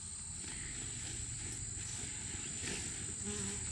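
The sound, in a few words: honeybees buzzing around a backyard hive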